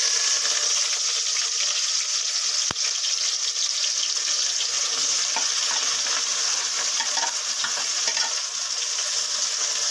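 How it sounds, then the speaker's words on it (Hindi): Onions tipped into hot oil sizzle with a steady, bright, loud crackle that holds evenly throughout, with one sharp click partway in and no talking. "ये हमारा तेल गर्म हो गया है, हम इसमें थोड़ी थोड़ी करके प्याज डालेंगे।"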